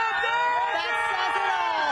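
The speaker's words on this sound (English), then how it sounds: "listen to the crowd" Crowd at the Dodgers World Series champions parade cheering, with whoops, shouts and high whistles rising over a lively babble of many voices close by.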